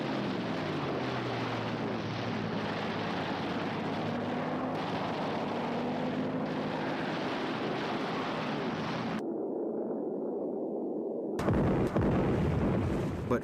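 Bombs bursting around the aircraft carrier Hiryu during an air attack at Midway, a dense rumbling roar of explosions with a sudden dropout to muffled noise before a loud burst returns, no voices.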